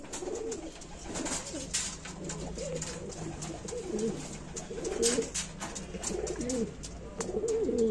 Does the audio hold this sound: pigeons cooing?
yes